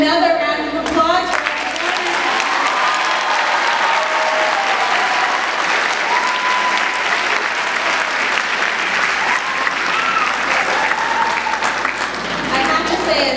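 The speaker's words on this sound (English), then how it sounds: "another round of applause" An audience at a school evening event gives a long round of applause, dense and sustained at an even level, with a voice speaking briefly near the start and scattered cheers and voices under the clapping.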